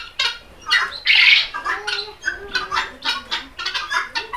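Jungle chickens kept on sand squawk and cluck loudly and close up in a rapid, uneven series of harsh calls, with no talking.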